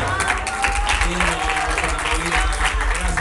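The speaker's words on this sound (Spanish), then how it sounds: "Un aplauso para ella." A theatre audience applauds steadily, a dense wash of clapping from a crowd, with a voice speaking faintly over it.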